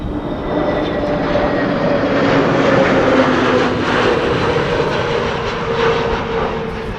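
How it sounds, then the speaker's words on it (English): An EasyJet Airbus A320neo from London Gatwick lands at windy Amsterdam Schiphol, its engines a loud, steady broadband roar that swells slightly and then eases off. "That's an A320 Neorio arriving from London Gatwick from EasyJet. That is now landing that you heard on the mic."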